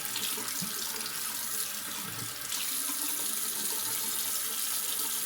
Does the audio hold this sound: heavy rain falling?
no